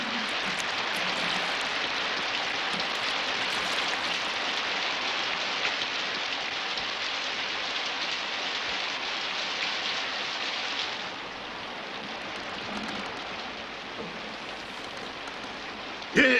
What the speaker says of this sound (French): Seulement quand il ne pleut pas.